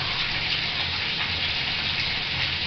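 A Marsupilami plush toy is pushed through water to blow big bubbles: a loud, continuous gushing and churning wash of water, steady throughout with no voices.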